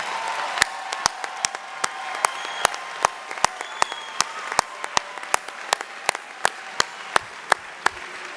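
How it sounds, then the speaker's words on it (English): Sharp claps sound one after another at a steady, fairly even pace, sparse and distinct against a quiet background, at a high school commencement ceremony. "we all owe a round of applause to Congressman James E. Clyburn."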